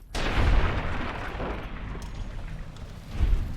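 Gunfire and an enemy's head exploding in the video game Fallout New Vegas, a loud booming blast that decays into a rumbling tail, followed by a second heavy thump near the end.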